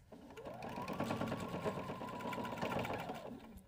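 A sewing machine runs in one continuous, close whirring burst as it stitches an elastic casing, steady and even throughout.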